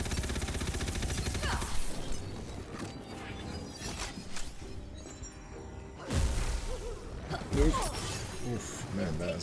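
Massive explosion in a video game boss fight, with loud bursts near 6 and 7.5 seconds over dense, continuous game combat noise and gunfire-like crackle.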